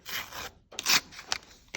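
Crinkly paper surprise packet from a McDonald's Minecraft Happy Meal is torn and rustled open, with a few short tearing and rubbing bursts up close.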